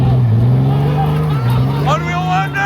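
Ford Ranger automatic pickup truck engine revving hard at an outdoor bonfire, a loud continuous roar with rising and falling pitch, people talking and shouting over it.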